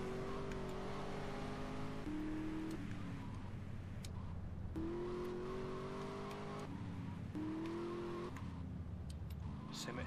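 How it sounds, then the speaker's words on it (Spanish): Car in the GTA: Liberty City Stories video game, its engine droning and shifting pitch in repeated revving surges, with tire skidding mixed in and someone talking over it. "Es que me derrapa un montón, macho."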